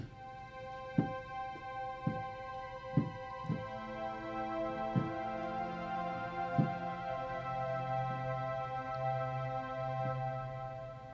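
Omnisphere synth patch "Name Pad" holds a thin, bright sustained pad for a worship keyboard part, with soft chord changes marked by light attacks, quiet and alone.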